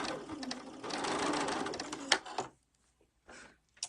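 A sewing machine stitches curved pieced fabric in a steady, close whirring run for about two seconds, then stops, followed by a couple of short bursts.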